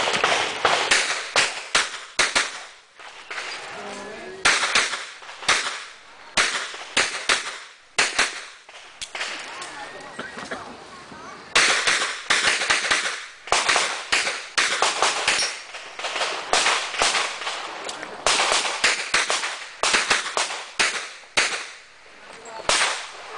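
Rapid, loud gunshots ring out in quick succession at an outdoor firing range in Cabuyao, Laguna, during a level 2 shooting course, with dense bursts separated by short pauses.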